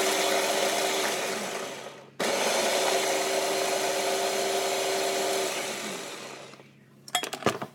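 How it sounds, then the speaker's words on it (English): A blender grinds walnuts and pecans together into a coarse meal, a loud steady whir that drops out briefly, resumes and winds down, ending with a few rattling knocks. "we're going to grind them together. So this one is a walnut pecan base."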